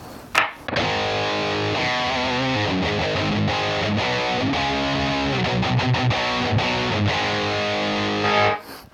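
A Headrush pedalboard preset with amp, speaker, graphic EQ, distortion and volume blocks drives a heavily distorted electric guitar, with a sustained loud riff of chords and sliding notes played without pause and no talking.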